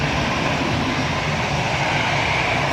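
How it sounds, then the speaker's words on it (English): An Etihad airliner taxis at Manchester Airport in the early morning, giving off a loud, close, unbroken jet-engine roar that holds steady from start to end, with no one speaking. "So the Etihad's now taxiing."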